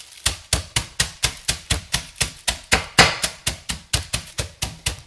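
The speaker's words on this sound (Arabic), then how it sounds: "راح نجيب الشوبك نحطه هيك ندقه" A rolling pin pounds peanuts in a bag for peanut butter bars: about eighteen steady, evenly spaced thuds, loud and close, each with a sharp crunchy attack, alone without talk.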